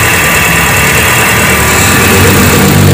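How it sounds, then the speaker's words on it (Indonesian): A Hyundai Atoz engine with a ticking fault idles loud and close at a cold morning start, a constant mechanical hum with a faint rapid rattle and a slight rise in revs near the end. "mesin Atos yang bunyi tek-tek-tek saat di start pagi hari"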